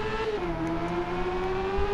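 Honda CB650F motorcycle in the video game RIDE, its engine holding a steady, droning high-rev tone during a drag run on a salt flat, continuous and fairly quiet with no voices.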